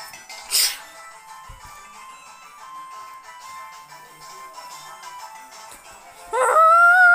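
In the video game Mario & Luigi: Paper Mario Color Splash, a short burst of noise, then a drawn-out, wavering dog howl under soft background music, ending with a louder, sudden electronic flourish.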